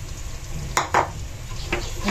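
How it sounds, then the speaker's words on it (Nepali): Spatula stirring chicken pieces frying with ginger, garlic and spices in a pan for a chicken pickle, giving a few scraping strokes over a steady low sizzle, close and with no talk. "अनि एकैछिन चलाउने"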